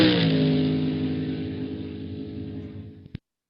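A car engine revs up and accelerates, loud and sustained, slowly fading over about three seconds before stopping sharply, with no voices.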